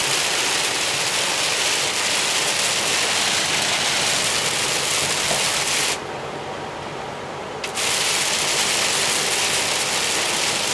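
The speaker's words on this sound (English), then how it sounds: "type of rain that you slow down for" Heavy rain pounding on a truck driving down the road, a dense loud roar of water that briefly drops away for a moment before returning full force, with no talking.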